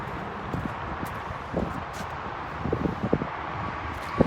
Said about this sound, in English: It's really windy where I am.